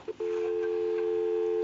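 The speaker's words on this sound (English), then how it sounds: "So we'll go ahead and give you some dial tone" A Western Electric 302 metal rotary dial desk telephone gives a steady, continuous dial tone heard through the handset after a couple of short clicks, clear and close.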